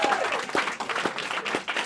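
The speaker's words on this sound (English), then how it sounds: "please be with me and give a big fat round of applause for James McKay." An audience applauds to welcome an author at a book event, a short burst of clapping and crowd noise with distinct sharp claps standing out, fairly close and lively.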